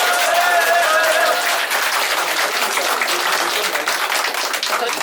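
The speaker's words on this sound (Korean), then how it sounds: "여러분 큰 박수 부탁합니다." A crowd claps in sustained, dense applause for a newly elected South Korean National Assembly member, staying loud throughout, with a few brief whistles early on.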